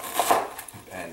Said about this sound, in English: Even after I do this, I'm going to go run this knife through it again.